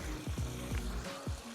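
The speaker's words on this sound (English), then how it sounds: "chicken's frying." Chicken fries in hot oil with a close, steady sizzle, broken by several sharp popping spatters and light stirring sounds.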